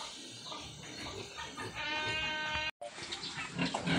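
Pigs on a farm, including a thin, oversized sow with an ear tag and notched ears, grunting and squealing continuously at close range, with a brief silent gap partway through before the noise resumes.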